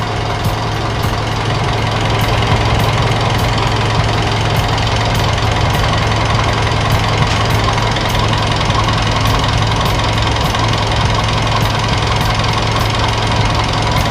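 A warm car engine idles steadily up close, a continuous low rumble with a faint repetitive ticking running through it, and no talking.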